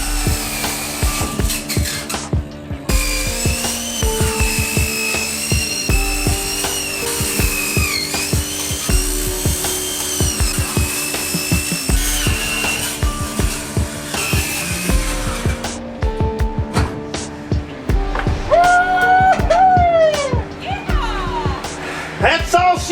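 A power tool cuts through the metal hat channels of a school bus roof with a shrill, grinding whine. The cuts come in repeated bursts and stay loud and close throughout.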